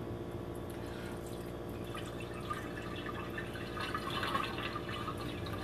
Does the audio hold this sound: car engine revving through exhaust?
no